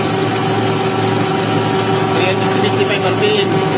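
A Mitsubishi 4D56 diesel engine idling at about 375 RPM on a calibration test, giving a steady low rumbling drone with a constant hum, close and loud, with a voice speaking over it.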